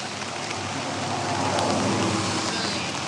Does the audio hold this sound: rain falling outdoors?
yes